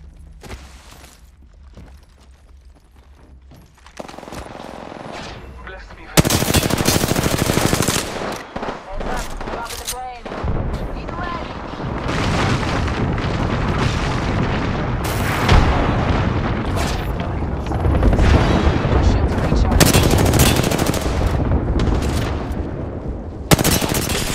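Video game gunfire: sustained machine-gun bursts, rifle shots and booming explosions fill a chaotic battlefield, loud and dense for the whole stretch, with shouted voices breaking in now and then.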